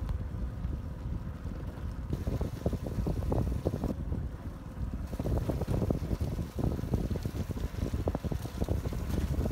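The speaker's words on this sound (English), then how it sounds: "Cool air is blowing in the surface." Wind gusts blow along a tree-lined road, a continuous rough buffeting rush that drops briefly, then returns, steady and fairly close with no voices.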